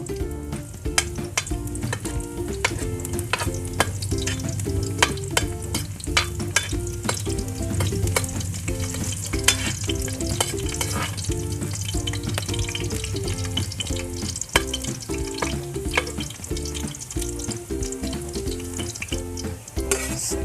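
Garlic sizzling in hot oil in a pan, a dense steady frying hiss with frequent scraping clicks of stirring utensil, close and continuous.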